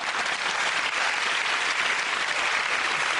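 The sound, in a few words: studio audience applause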